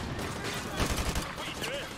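A short rapid burst of gunfire in Modern Warfare 2 Remastered crackles fairly close in the middle of the moment, mixed into background game noise with voices talking around it.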